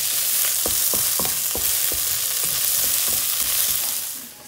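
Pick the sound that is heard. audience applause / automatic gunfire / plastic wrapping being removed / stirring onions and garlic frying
stirring onions and garlic frying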